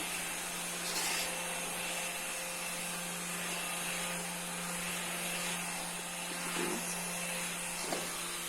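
An Electrolux Ergorapido cordless stick vacuum cleaner's motor whirs steadily and drones on without pause, with faint scraping and rubbing sounds now and then.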